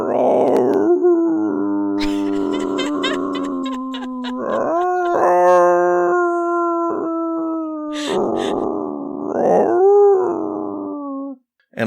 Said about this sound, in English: Howls from outside break into your